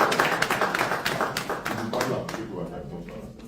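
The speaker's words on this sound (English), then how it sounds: "Please clap for it." An audience at a live investment meet-and-greet in Toronto claps, a dense burst of hand claps that is loud at first and gradually thins and fades toward the end.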